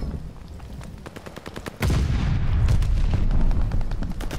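Gunfire in a video game, with rapid sharp shots cracking at first, then a sudden loud burst of sustained automatic fire and booms that stays dense and close to the end.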